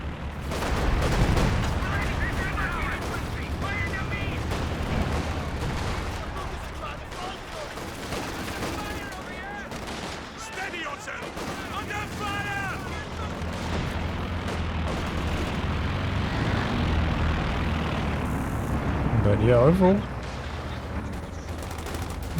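Artillery and gunfire in a Company of Heroes 2 battle, with repeated booms and crackling volleys rumbling under continuous talk across the whole stretch, one heavier blast near the end.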